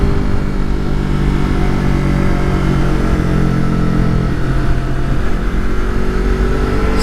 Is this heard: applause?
no